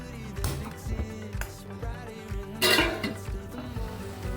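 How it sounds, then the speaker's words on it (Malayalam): A lid is set down on a cooking pot of Kerala aviyal, the mixed vegetable dish, giving one clear metallic clank midway through, amid soft kitchen clatter. "ഇനി നമുക്കിതിനെ അടച്ചു വെച്ച് വേവിച്ചെടുക്കാം."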